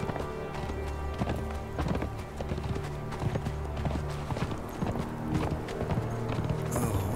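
A horse gallops in the video game Conan Exiles, its hooves beating a steady rapid clip-clop rhythm over a continuous low game-world drone, with no voices.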